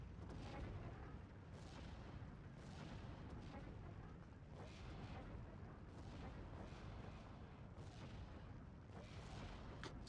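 Artillery shells fire in a World War II strategy game battle as a dense, continuous roar of booms and rumbling blasts, the distant volleys overlapping into steady thunder with no gaps.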